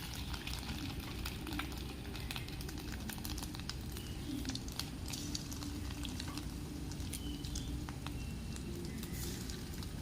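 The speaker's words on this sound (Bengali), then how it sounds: "আর এটা হচ্ছে মাছের ডিমের বড়া হচ্ছে।" Fish roe fritters frying in hot oil in a home kitchen, a continuous dense sizzle and spatter with crisp crackles, close and steady, with faint clinks in the background.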